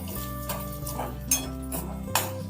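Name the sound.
peanuts being added to hot oil and roasted in a pan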